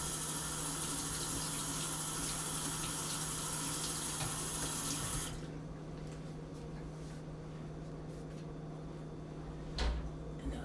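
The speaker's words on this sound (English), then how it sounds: "then I just rinse it off, wash it a bit, rinse it off" Steady rush of running tap water over a kitchen knife being rinsed after sharpening, continuous and close for about five seconds, then cutting off to quieter room sound with a brief clatter near the end.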